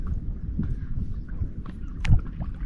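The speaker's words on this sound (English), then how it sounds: "Maybe it's just the sound of the water lapping and the birds." River water laps softly against a small boat at Stokes Inlet, Western Australia, under low wind rumble, with a few faint splashes and knocks close by.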